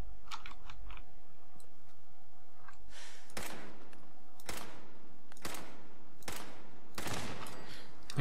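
In Fallout 4, gunshots aimed at a turret ring out one by one, with five sharp cracks spaced about a second apart, each trailing a short echo. A few faint clicks come earlier.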